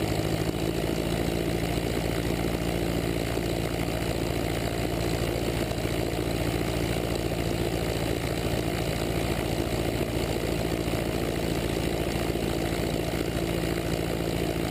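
Light aircraft piston engine held at 1700 RPM during a ground run-up, a steady, even propeller drone with rapid regular pulsing heard from inside the cabin, unbroken and without voices.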